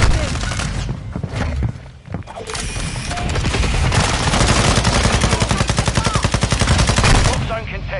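Heavy gunfire in a shooter video game, dense rapid automatic bursts that build into a sustained rattling stream in the second half, loud and close, with scattered booms and impacts.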